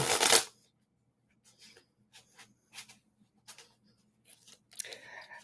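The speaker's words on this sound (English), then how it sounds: "I'm going to go ahead and start shuffling the cards now" A brief riffle of tarot cards, then soft, sparse shuffling and sliding of cards in quiet, close and gentle, with a fuller shuffle at the end.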